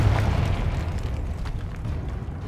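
A Confringo blasting spell explodes in the video game Hogwarts Legacy, giving a loud, deep roaring burst that rumbles on and slowly fades with a crackling, noisy tail.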